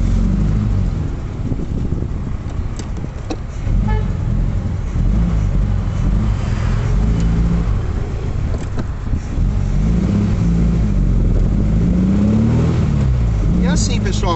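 Volkswagen Beetle fitted with a roller steering box, 185/70 R14 tyres and a small-diameter steering wheel, its engine running steadily and loudly close by during a slow maneuver, with faint creaks and a person talking over it.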